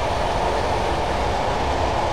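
A Class 111 diesel multiple unit braking in Train Simulator 2015, a steady loud rumbling roar of the running train with a constant hiss and rolling wheel noise, unbroken throughout.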